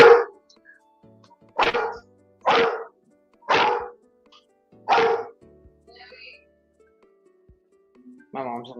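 A dog barks in the background during a live build stream, five loud, evenly spaced single barks about a second apart, followed by a short whine at the end, with no talk over them.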